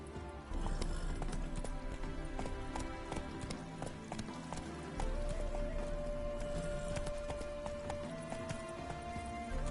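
Roach, a game horse, gallops with rapid, loud hoofbeats pounding under steady background music, and a sustained tone enters midway.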